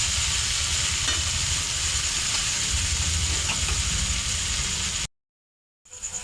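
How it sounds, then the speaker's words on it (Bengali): Potatoes frying in hot oil in a pan, a constant close bubbling sizzle for about five seconds, then a sudden cut to silence before the frying noise returns briefly. "আলুটা ভাজা হয়ে গেছে"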